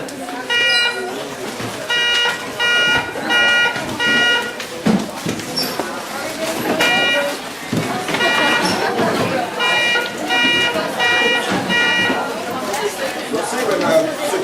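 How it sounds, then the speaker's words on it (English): A building alarm pulled in a classroom sounds in repeated pulsing beeping bursts over several seconds, with students chattering loudly underneath. "Why'd you pull the alarm for?"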